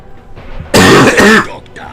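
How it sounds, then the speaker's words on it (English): A man recovering from bronchitis gives one loud, harsh throat-clearing cough, close and brief, rising out of quiet room noise. "I'm going to be coughing a lot."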